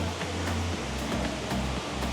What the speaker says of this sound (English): I think I heard that it was the biggest indoor waterfall in the world.